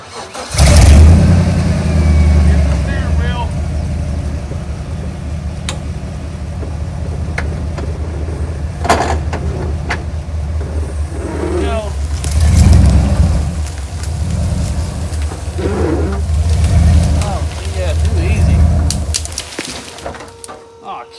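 A manual-transmission car being pulled out of a ditch, its engine starting and revving in several loud surges separated by quieter idling stretches, with birds faintly audible in the background.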